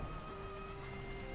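Steady rain falling through a thunderstorm over Paris in the game Gibbous, a continuous soft patter on surfaces, with a faint tonal ambient hum underneath and no voices.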